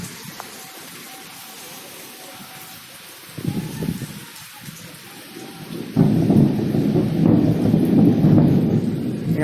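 Steady rain falls outside in Jhansi, near a shrine and a park, with a low rumble of thunder; the downpour grows noticeably heavier and louder partway through, with no talk.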